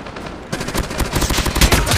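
Rapid automatic gunfire from a Call of Duty Mobile ranked multiplayer match, loud dense bursts of shots starting after a brief quieter lead-in and continuing steadily to the end.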